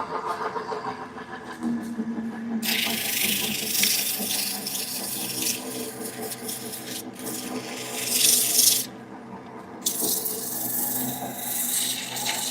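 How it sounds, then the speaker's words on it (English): Sandpaper held against a wooden birdhouse spinning on a lathe, a continuous abrasive rubbing hiss over the motor's hum, with pauses and pressure changes and one brief louder scrape, no talking. "That's I'll try to sand."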